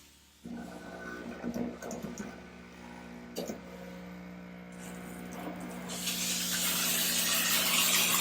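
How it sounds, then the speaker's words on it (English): A Chief Steamer 155 steam cleaner sprays steam and chemical onto a car hood, giving a steady hiss that starts sharply, carries on over a low hum and grows brighter and louder toward the end. "There's plenty of chemical, plenty of steam coming out."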